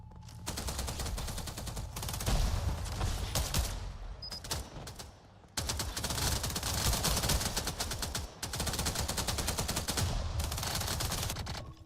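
Loud, sustained bursts of rapid gunfire and explosions in a VR video game, heavy and continuous with brief pauses, mixed with grenade blasts and no talking.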